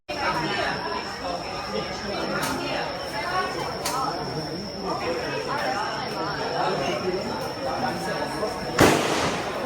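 Gunfire rings out at the Cu Chi tunnels shooting range as a few sharp, sparse shots, one louder near the end, over constant crowd chatter and talking voices.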